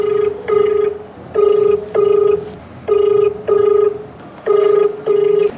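A telephone ringback tone repeats in regular double bursts, about six rings in a steady pattern, heard while an official is being called about temple land issues; clear and close with no talk over it.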